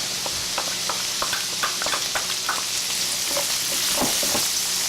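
Minced garlic with chopped parsley frying in a pan, a close steady sizzle speckled with many small crackling pops.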